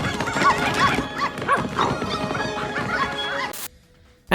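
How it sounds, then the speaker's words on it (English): Summoned demon puppies in the video game Shrine 2 bark and yip in a busy burst of overlapping yaps amid harsh game noise, ending abruptly before a brief quieter stretch. "the ability to summon demon puppies."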